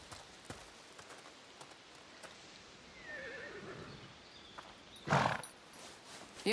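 In A Plague Tale: Requiem, a horse whinnies clearly at mid-distance amid a quiet outdoor ambience, followed by a short sharp snort, with faint hoof sounds scattered around.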